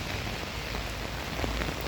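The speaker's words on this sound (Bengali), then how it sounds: "আবারও বৃষ্টি, প্রচুর বৃষ্টি রূপে।" Steady rain falling on a Paris street in cold weather, a dense, even hiss of drops on surfaces that stays constant and fairly close throughout with no voices.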